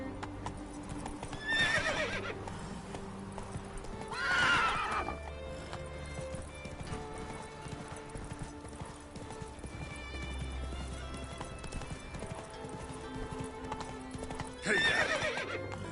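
Horse in The Witcher 3 game trotting with steady rhythmic clip-clop hooves, three loud neighs breaking through at intervals over a low music bed.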